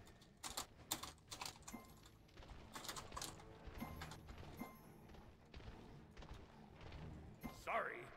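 Rapid bursts of computer keyboard typing during a Smite game session, quick irregular clusters of key clicks with pauses between, faint and close, with some talk and game sounds mixed in.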